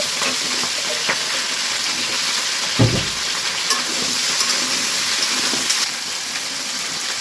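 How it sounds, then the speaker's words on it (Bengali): Potatoes and cauliflower hitting hot oil in a kadai, a loud, close, continuous sizzle and hiss with a few stirring knocks scattered through, and no talking. "অন্য কড়াইতেও তেল গরম হয়ে গেছে, আমি ফুলকপিগুলো ছেড়ে দেবো। আলু ফুলকপি একসঙ্গে দিয়ে দিচ্ছি।"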